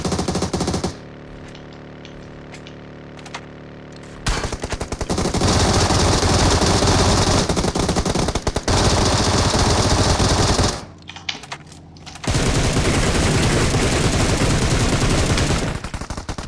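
Sustained automatic gunfire from the mobile game PUBG Mobile, loud and continuous in long rapid bursts with a brief pause partway through, set over a steady game background.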